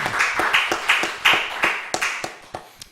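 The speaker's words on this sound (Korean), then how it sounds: "하나님께 영광의 박수 올려드립니다" Rhythmic hand clapping from a church congregation at a Friday night prayer service, about a dozen sharp, evenly spaced claps close by, fading toward the end.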